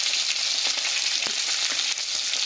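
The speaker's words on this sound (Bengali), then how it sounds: "এবার মাছের মাথাগুলোকে আমরা খুব ভালোভাবে লাল লাল করে ভাজা করে নিচ্ছি।" Kalbaush and rohu fish heads fry in hot oil with a dense, continuous sizzle that sounds close and fairly loud. Faint scraping from stirring comes through now and then, and no one speaks.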